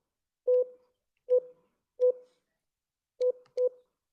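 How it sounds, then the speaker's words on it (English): A telephone keypad dials an extension on an automated phone line with five short, clean beeps, three evenly spaced, then a quick pair, all close and clear against silence. "Please dial the extension number."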